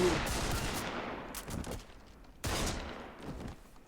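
Gunfire from a Better Call Saul television episode: two sharp, loud shots about a second apart, the second especially strong, each trailing into a long reverberant decay with no speech over them.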